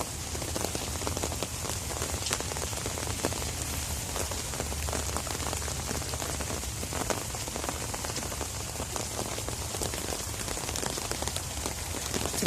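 Rain falls steadily on a backyard garden, a dense, constant hiss of drops striking leaves and surfaces close by, with no voices.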